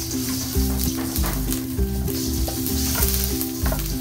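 Ginger sautéing in a pan as the first step of a spicy blue crab dish, a steady loud sizzle and fry with rhythmic stirring and clinks of utensil against the pan, no talking.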